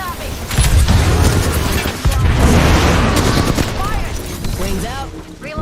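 Enemies fire on the player in a first-person shooter video game: loud, dense bursts of gunfire and booms fill the first half, then thin out to scattered shots.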